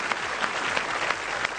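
Audience at a dance show applauding for a contestant named Dimple, a short burst of dense, continuous clapping from a crowd.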